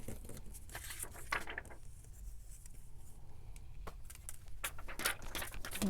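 Paper being cut by hand for pressed-flower junk journal specimen cards, quiet close scratchy snips and rustles in an irregular patter, no talking.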